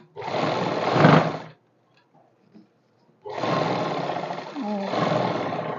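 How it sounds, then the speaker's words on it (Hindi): Sewing machine stitching a seam on a kurti, two loud close bursts of steady motor whirring separated by a quiet pause, no voice over it. "इस निशान के ऊपर से पक्की कर लेंगे ताकि हमारी आगे से फिनिशिंग के साथ सिलाई बने।"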